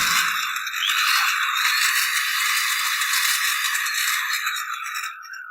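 Expert 810 demolition hammer motor running after a service, a steady high, rattling whine that stays even and close for several seconds before easing off at the end.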